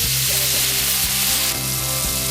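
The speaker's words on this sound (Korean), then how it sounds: "퇴근 무렵 공장에는 삼겹살 굽는 냄새가 진동을 한다." Pork belly grills on an upturned cast-iron cauldron lid at a foundry, giving a steady, close hiss of sizzling fat that runs the whole time beneath tonal background music.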